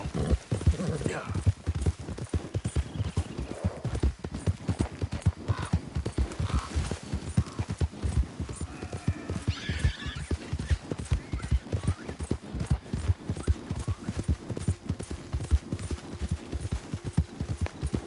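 Rhythmic horse hooves clip-clopping at a steady walking pace in the video game Red Dead Redemption 2, with a few voices speaking over them.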